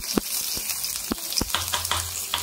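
Curry leaves fry in hot oil with a steady close sizzle, broken by scattered sharp pops and crackles.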